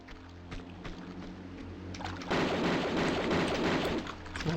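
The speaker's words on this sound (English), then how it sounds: "Now we can use auto pistols." Auto pistols firing in Tomb Raider II aboard the Maria Doria shipwreck, a dense rapid volley that swells loud midway, preceded by quieter intermittent shots and ambient drone.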